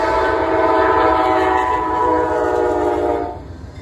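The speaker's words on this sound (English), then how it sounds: "That was Amtrak at Brunswick" A loud Amtrak passenger train horn blares steadily over the rumble of the passing train at Brunswick, then fades as the train moves off.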